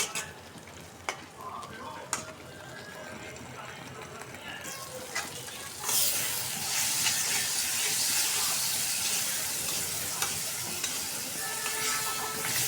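Ginger, garlic, cumin, coriander, chili and turmeric powders with cinnamon and cardamom fry in a pan. Stirring and soft crackle come first, then the sizzle swells sharply into a loud steady hiss, with a voice briefly heard.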